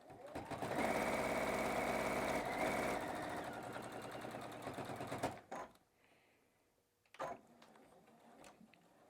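A sewing machine stitches an apron in a rapid, loud, steady run for about five seconds, then stops, followed by a short back-stitch burst.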